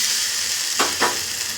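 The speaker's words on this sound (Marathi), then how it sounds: "याच्यात हे सगळे टाकायचे आणि चांगलं परतून घ्यायचं" Chana masala ingredients sauté in a pan with a constant hiss of sizzling oil, broken by two brief scraping stirs close by.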